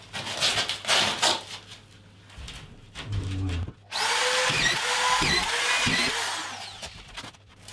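Metabo SE-4000 drywall screwdriver driving screws into drywall, several short whirring bursts followed by a long continuous run as screws go in one after another, loud and close.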